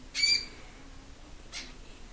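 Pet talking bird giving two short, high, squawky calls about a second apart, close but fairly faint against a quiet indoor background, with no talking.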